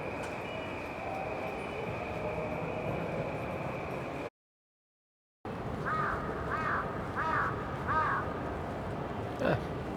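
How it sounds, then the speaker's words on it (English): A crow caws four times in a row in Tokyo near the Karasumori exit, rising out of rumbling train and street noise after a brief dropout. "Ah, there's a crow."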